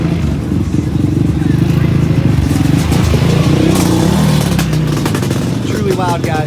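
A nitromethane-fuelled KTM 1190 hill climb race motorcycle idles with a loud, continuous rumbling engine note, revving slightly near the end, amid crowd babble and pit-area chatter.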